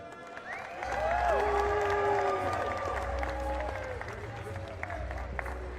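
A crowd claps and cheers in a large room, a steady wash of applause with a few whistles and voices over it, moderately loud.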